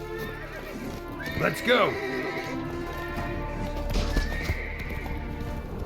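A horse in The Witcher 3 gallops with steady clip-clop hoofbeats and lets out a sharp neigh partway through, heard under a voice talking over the game.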